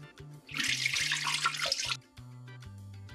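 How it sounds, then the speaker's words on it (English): Rice being washed in water under a kitchen tap: a faint low tone first, then a burst of running water for about a second and a half, then quiet again. "We wash our rice a few times."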